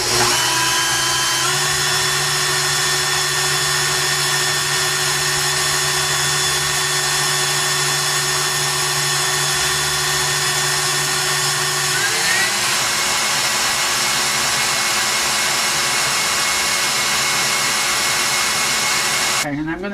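An electric mixer whips egg whites with sugar for a banana cream pie meringue, giving a steady, loud motor whine that shifts pitch partway through and cuts off near the end.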